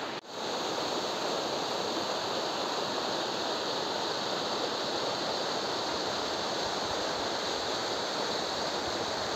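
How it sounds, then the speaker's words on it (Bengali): A waterfall at Ratmohana near Ghatshila pours down from above into the water below, making a steady, loud, broadband rush that continues unchanged throughout. "আপনারা দেখতেই পাচ্ছেন পুরো কত সুন্দর উপর থেকে ঝর্ণাটা আসছে"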